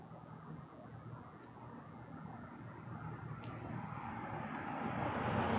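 Boeing 777 taxiing close by at Toronto Pearson, a faint engine rumble and whine that builds steadily louder toward the end as the jet nears, with no talk.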